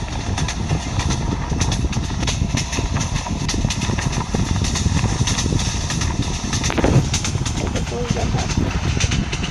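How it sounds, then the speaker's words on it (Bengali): Suborno Express intercity train from Train Simulator Bangladesh running steadily, a continuous loud rumble of engine and carriages with no clear breaks, a brief change in tone near the end. "আরামে যাবো আন্তনগর সুবর্ণ এক্সপ্রেস ট্রেন নিয়ে, ট্রেন সিমুলেটর বাংলাদেশ"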